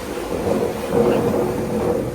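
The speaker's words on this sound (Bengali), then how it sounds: "বাইরে এত সুন্দর বৃষ্টি পড়তেছে" Steady rain pours outside with a continuous dense rushing wash, fairly loud and close, with no voices over it.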